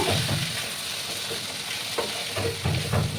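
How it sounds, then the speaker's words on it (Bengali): Jackfruit seeds sauté with prawns in a hot pan, sizzling steadily, with a few scraping stirs and clinks of a spatula, close and continuous, and no talk. "এবার দেখো আমি কাঁঠালের দানাগুলো দিয়ে দেবো একসঙ্গে কষিয়ে নেবো"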